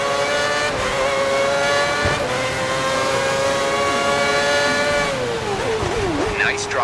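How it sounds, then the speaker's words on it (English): A race car engine revs hard and steadily out on the track, a loud, sustained whine with pitch dipping and rising near the end as the driver eases off and back on. "Ease off on the revs a bit when you can."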